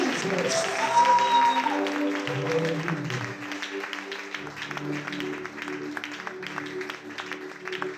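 A church congregation at a night vigil applauds and cheers, continuous clapping and raised voices mingling with a sustained tone and other background voices throughout.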